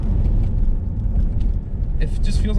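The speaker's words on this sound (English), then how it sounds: "So this is a bumpy part of the road" Steady low rumble of a 4th-gen Mazda 3 hatchback rolling over a bumpy stretch of road, heard from inside the cabin as a continuous, fairly loud road drone with brief rattly lifts near the end.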